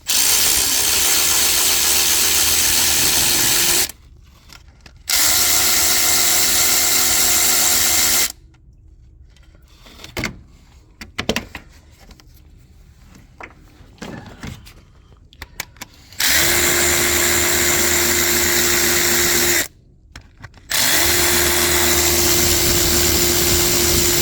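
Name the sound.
removing Audi oil cooler housing bolts with triple square socket bit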